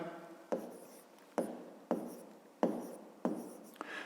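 A pen writes on paper close by in several short rhythmic strokes, each opening with a soft tap and trailing into a scratchy drag, with no voices.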